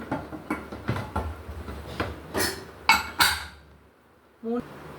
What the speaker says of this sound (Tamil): குக்கர் மூடி போட்டுக்கலாங்க.